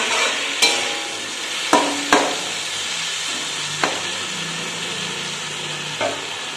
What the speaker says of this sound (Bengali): তারপর এটাকে হালকা হাতে নাড়াচাড়া করতে হবে